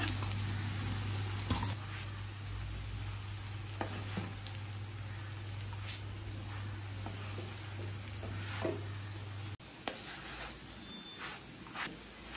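Parotta pieces shallow frying and being stirred in a pan, a steady sizzle with intermittent scraping and clinks of a spatula, close and continuous, a low hum cutting off near the end.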